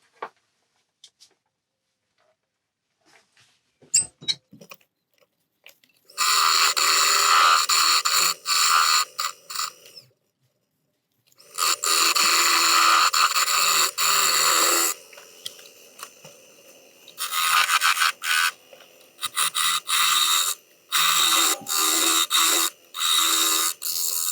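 A wood lathe cuts a tenon on a bowl blank made from firewood. The gouge gives loud, harsh scraping bursts of several seconds each, broken by short pauses, with no voices.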